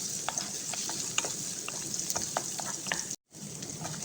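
Garlic sautéing in olive oil, a dense, close crackling sizzle with light ticks of stirring, cut by a momentary dropout near the end.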